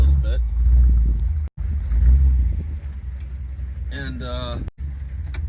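A 1955 Mercury Montclair rumbles along the road in a low, steady engine drone from inside the cabin, briefly cutting out twice, while someone speaks over it.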